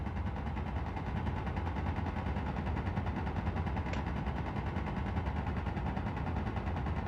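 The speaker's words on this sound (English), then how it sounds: "That sounds like an interior turret there." Sustained rapid turret fire from an interior turret in the space game Space Engineers, a dense continuous rattling barrage that stays loud and steady for the whole stretch with no talk.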